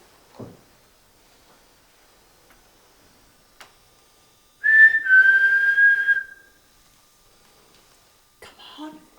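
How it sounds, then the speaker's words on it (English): A person whistles a single sustained, slightly wavering note for about two seconds in a quiet room during a ghost-hunting vigil, with scattered faint ticks and a soft knock around it. "Can you whistle?"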